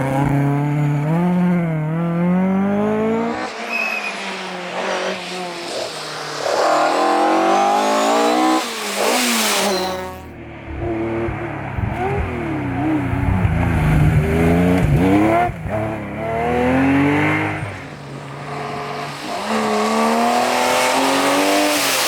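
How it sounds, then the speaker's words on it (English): Historic rally cars, including a BMW and a Ford Escort, race on a stage of the Rallye du Chablais in a series of loud, close engine runs with hard revving, gear changes and rising and falling passes, with no talk. "In the sixth test, Blanchard overtakes Servais and immediately climbs to second place behind Jordanengo."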